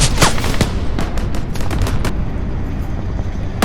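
Sharp gunfire cracks in rapid bursts through a loud, dense battle din in a dramatized armed rebellion scene.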